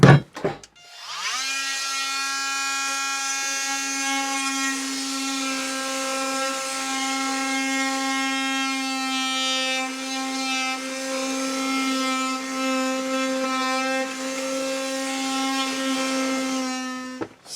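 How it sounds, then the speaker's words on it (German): An oscillating multi-tool cutter saws through a wooden board with a steady, high-pitched buzzing drone that holds constant and close for about sixteen seconds after a brief start. "Jetzt muss ich natürlich dieses Brett hier abschneiden. Und das mache ich mit dem Multischneider."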